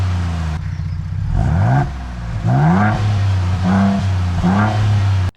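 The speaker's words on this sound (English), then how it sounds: "Ford built a special exhaust system for this car, and it sounds really, really good, especially when you have it on sport mode." A 2023 Ford Bronco Raptor with its special exhaust system in sport mode, revved repeatedly up close: several rising engine blips with a settling idle rumble between them, loud and alone.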